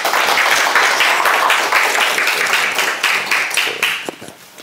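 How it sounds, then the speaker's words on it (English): An audience applauds at the close of a university robotics presentation in a lecture room, a sustained wash of many hands clapping that stays loud and even before thinning and fading out near the end. "A round of applause."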